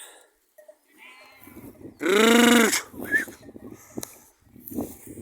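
A sheep grazing on clover gives one loud, wavering bleat near the middle, surrounded by quieter chewing and tearing sounds and a few short animal noises.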